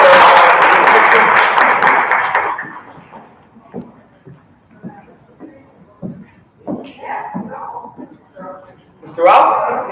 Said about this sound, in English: Give yourself some round of applause.